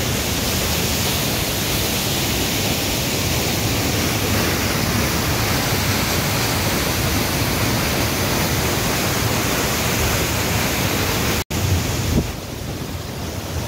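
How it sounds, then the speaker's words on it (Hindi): Bhatta Falls in Uttarakhand pours down in a constant, loud roar of rushing water that fills the whole clip, close and unbroken except for a brief dropout near the end. "पानी का बहाव, मैं थोड़ा ऊंचाई पे आ गया हूँ, इससे कि जलधारा देखिए काफ़ी विकराल"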